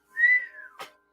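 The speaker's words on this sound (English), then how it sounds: "that was such a non-inspiring whistle" A person whistles one short note that slides gently downward, heard alone and close, then ends in a brief breathy burst.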